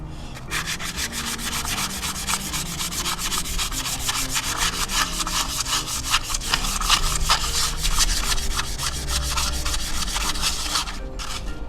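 Used 180-grit wet and dry abrasive paper rubbed by hand over a car flywheel face during a clutch job, a continuous rapid scratchy back-and-forth sanding rasp, close and steady for about eleven seconds.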